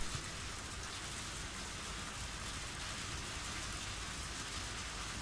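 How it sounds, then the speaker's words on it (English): Steady, even rain hiss from the Higurashi (Meakashi) video game, a constant soft wash of falling drops with no breaks or voices. "The delightful sound of rain really helps me to"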